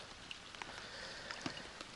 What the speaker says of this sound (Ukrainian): Дощ пускається.